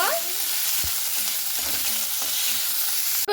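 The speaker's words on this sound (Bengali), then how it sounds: "তো পেঁয়াজটাকে কিন্তু আমি লাল লাল করে ভেজে নেব।" Onions and nigella seeds fry in hot oil for a small-fish curry, a steady loud sizzle with a few soft stirring scrapes running through it, close and continuous with no voices.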